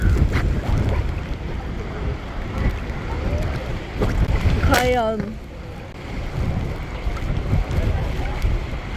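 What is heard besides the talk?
strong wind blowing near a waterfall in Iceland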